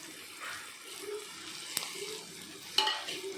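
Turmeric and curry leaves hitting hot oil over light golden onions for okra curry, a close sizzle with stirring scrapes, a sharp click and a sudden burst of louder spattering near the end.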